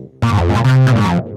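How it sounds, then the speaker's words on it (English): Roland TB-303 bass synth line played through an Ibanez AW7 autowah followed by distortion, a single loud, sustained buzzing phrase of about one second with a sweeping filtered tone, heard alone. "this is where the magic happens when you go to the wah and then the distortion."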